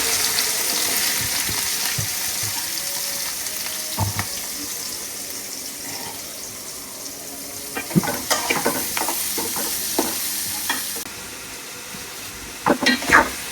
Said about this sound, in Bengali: এখন তেলে পেঁয়াজ দেওয়া হবে।